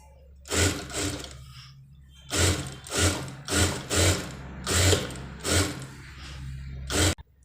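A sewing machine stitches a sleeve onto a one-piece dress sewn from an old sari, running in about eight short whirring bursts with brief pauses between them, close and clear, with no voices.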